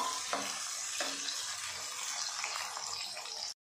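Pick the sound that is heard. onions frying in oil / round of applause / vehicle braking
onions frying in oil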